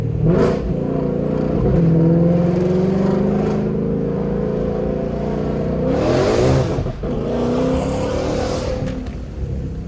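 A 1000+ hp Ford GT500 accelerates hard through first and second gear, its loud engine roar rising in pitch with a sharp gear change midway, heard close from inside the car with no talk.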